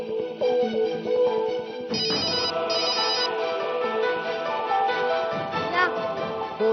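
A phone plays a repeating electronic ringtone melody, bright and continuous, with a brief louder rise partway through and no voices.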